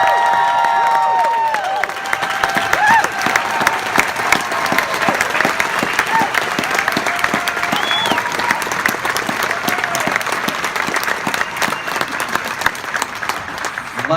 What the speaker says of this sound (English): giving these musicians a round of applause.